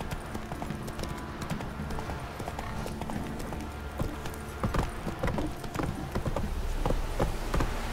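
Roach the horse galloping in The Witcher 3, a rapid, continuous clip-clop of hooves over ambient game sound, close and steady throughout without speech.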